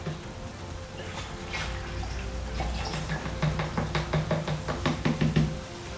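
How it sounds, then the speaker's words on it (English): Liquid lawn fertilizer concentrate poured into a half-filled one-gallon plastic jug of water, a steady trickling pour that gives way to glugging splashes toward the end, close and moderately loud. "And then I pour in my concentrate."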